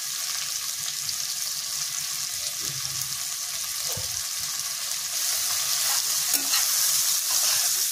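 Garlic, dry ginger powder and other ground spices sizzle in a pan with tomatoes while being stirred for a Bengal gram ghugni. The frying hiss is steady and close, with occasional scraping stirs and no talking.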